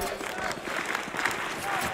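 An arena crowd cheers and claps in a steady roar at a CS:GO esports match, Ninjas in Pyjamas versus Astralis on Nuke at DreamHack Masters Stockholm 2018. A caster's voice talks over it.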